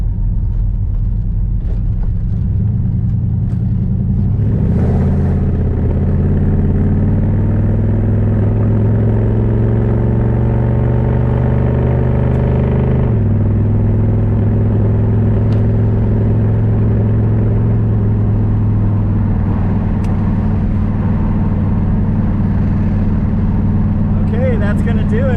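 A 1982 Camaro's engine drones steadily while driving uphill at cruising speed, a loud, close, low rumble with a brief shift in pitch partway through and a voice talking over it at times.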